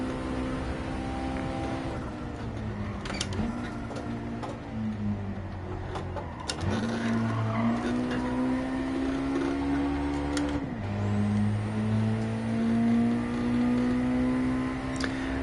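A car engine pulls hard in Gran Turismo 7, climbing through the revs with steady rising whine, pausing briefly at gear changes around the two-, six- and eleven-second marks before pitching up again, loud and continuous.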